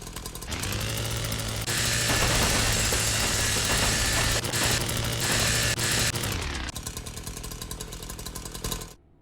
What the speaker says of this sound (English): Chainsaw now has a use in the game.